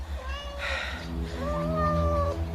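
A cat meows in two drawn-out, wavering cries, close and fairly loud, over a low steady hum outside a house near a bathroom window and drain pipe.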